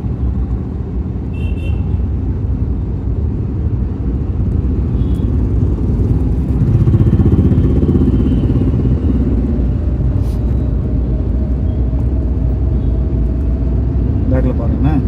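Car engine hums steadily through a beginner's driving lesson, a constant low rumble with faint shifts in pitch as gears change, while an instructor talks throughout.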